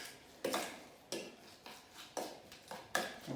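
Beef tartare being mixed with cutlery, the utensils clinking and scraping against a dish in short, irregular strokes, close and clear with no talking.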